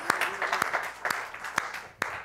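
An audience claps in response to a remark about wishes for love, with a handful of distinct, sharp claps spread unevenly over a low, steady room murmur.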